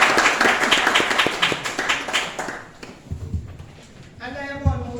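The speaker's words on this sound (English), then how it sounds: "We are going to give our panelists a round of applause." An audience applauds panelists after a panel discussion at an AI workshop, a short burst of clapping that fades after a couple of seconds, followed by quieter room sounds and a voice speaking.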